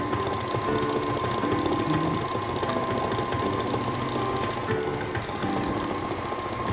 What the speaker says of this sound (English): So now I'm turning my mixer down to a much lower speed